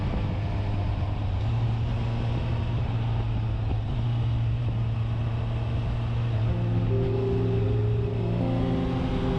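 Honda Hornet 1000SP four-cylinder motorcycle engine droning steadily while riding, a continuous close hum with a pitch that climbs toward the end under wind noise.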